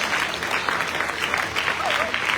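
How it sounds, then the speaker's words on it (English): Audience applause at the 2025 USA National Shearing Competition awards: a dense, steady round of clapping from a crowd, sustained evenly throughout at a moderate level. "Let's give him a big round of applause"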